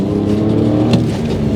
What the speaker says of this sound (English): lovely noise from the straight 6